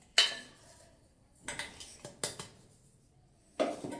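Ground dal and poha batter scraped out of a steel mixer jar into a vessel, heard as a sharp clink followed by a few light scraping taps and another metallic knock near the end.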